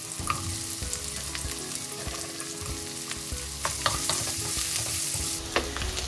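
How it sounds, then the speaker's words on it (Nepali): Sausage and onion fry in a pan for a Nepali-style pasta, giving a continuous close sizzle with scraping stirs and light clinks of the utensil throughout, no voices. "यो ससेजलाई लगभग पाक्ने गरी फ्राई गर्नु होला"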